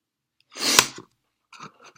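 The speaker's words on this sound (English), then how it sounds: "Sorry about the sniffles" A single loud, close nasal sniff or sneeze-like burst from someone with allergies, followed by a few softer sniffles, with no talk.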